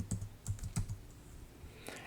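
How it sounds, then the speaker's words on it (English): Computer keyboard typing as a command is entered, a few quick clustered key clicks, close and clear, followed by a short pause and one more keystroke. "as we're typing this command out"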